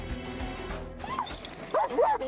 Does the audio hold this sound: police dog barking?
yes